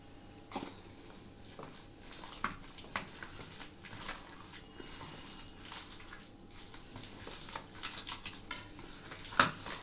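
Hands squish and knead chicken pakora batter with cornflour and coriander leaves in a bowl, giving soft wet squelches and taps at close range.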